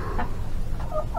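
Backyard hens and a white rooster give off brief, soft clucks over a low farmyard rumble, with two or three quick chirping notes close by.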